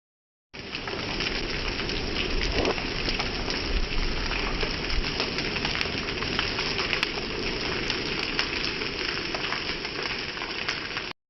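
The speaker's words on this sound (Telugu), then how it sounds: "ఒకసారి ఇక్కడ వర్షం అయితే కనిపిస్తుంది కదా" Steady evening rain pours outside a cinema, a dense, even hiss of falling water that holds constant for the whole stretch without any voices.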